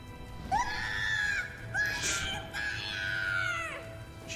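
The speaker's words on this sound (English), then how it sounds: "Don't you hear all that screaming?" Shrill, drawn-out screaming from soldiers in the video game Drakengard 3, several wavering cries rising and falling in close succession, loud and close with no talk over them.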